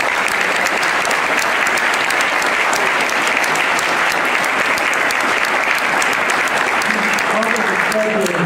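Steady, dense applause from an audience at an academic building presentation at Webb Institute, continuous and even in loudness, with a voice beginning to speak near the end.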